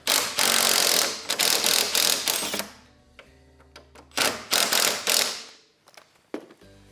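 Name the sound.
loosening snowmobile torque arm nut with 17mm wrench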